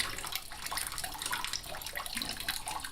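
Water is poured back into a pot beside a sink drain, a close, continuous splashing and trickling stream at a steady level, with no talk.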